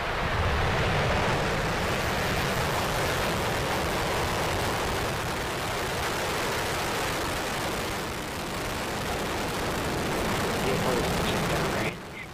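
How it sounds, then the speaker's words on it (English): A SpaceX Falcon 9 rocket lifts off carrying a geocommunications satellite, a loud continuous broadband roar and rumble that holds steady and slightly swells before cutting down abruptly near the end. "SpaceX has launched a Falcon 9 rocket loaded with a geocommunications satellite"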